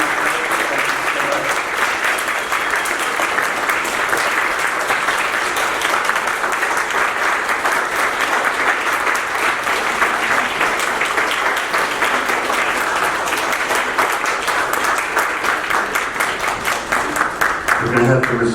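Sustained crowd applause, dense and steady throughout, loud and close, with scattered voices mixed in beneath the clapping.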